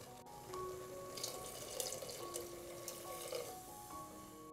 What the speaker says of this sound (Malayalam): അതിനുശേഷം ആവശ്യത്തിനുള്ള വെള്ളം കൂടി ഇതിലേക്ക് ചേർത്ത് കൊടുക്കണം.